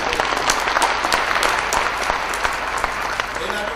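Theatre audience at a Bengali stage play applauding continuously, a dense, close wash of many hands clapping at steady loudness throughout.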